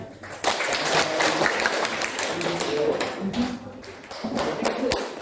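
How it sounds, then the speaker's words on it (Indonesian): A small group of students at Universitas Negeri Makassar claps during a classroom group activity. The uneven, fairly close clapping is moderately loud and runs under ongoing talk. "Tepuk tangan."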